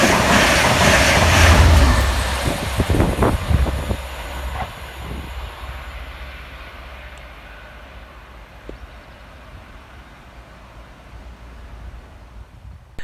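Class 67 locomotive 67013, pushing a Transport for Wales coaching set, passes through Chelford station: a loud rumble and wheel clatter up close at first that gradually fades into the distance, leaving quiet ambience.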